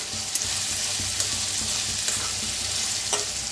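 Peanuts and spices roast in a pan with a steady dry sizzle and hiss, and a few soft scrapes and clicks from stirring punctuate it, close and continuous with no voices.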